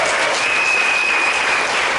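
A church congregation at a Sunday worship service claps in steady, dense applause that holds at a constant loud level throughout.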